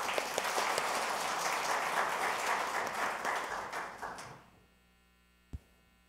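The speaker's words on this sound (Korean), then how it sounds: "나오시는 동안 박수 부탁드립니다" Audience applause at a Korean self-sufficiency policy forum, a dense roomful of clapping that runs steadily for about four seconds, then fades quickly into quiet room hum with one stray knock.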